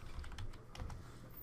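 Light typing on a computer keyboard, a few quick soft keystrokes heard close and alone, fairly quiet.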